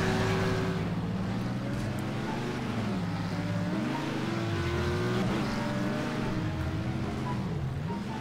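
Armoured car with big wheels in Garry's Mod, engine droning loud and close with pitch swooping up and down as it drifts and revs, no talk over it.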